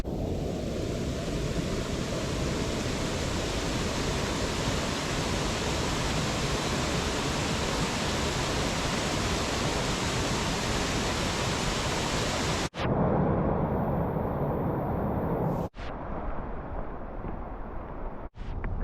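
Watson Falls, a big waterfall, rushes in a steady, loud, dense roar that fills the air without a break, then drops away abruptly near the end as if cut off.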